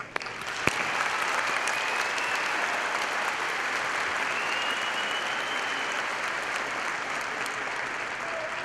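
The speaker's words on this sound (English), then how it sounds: "please give a round of applause to those who raised us" Steady, dense applause from a high school commencement crowd honoring their parents, a uniform wash of many hands clapping at moderate distance with no talk over it.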